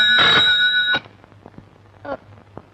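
A telephone rings with a bright, tonal, bell-like burst lasting about a second in a Bollywood movie scene, followed by quiet with faint voices and small scattered sounds.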